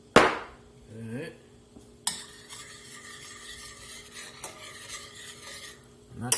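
Chicken frying in hot fat in a pan over an open flame: a steady sizzle broken by metallic scrapes and knocks of a utensil against the pan, with sharper clanks at the start, middle and end.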